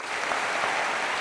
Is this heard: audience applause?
yes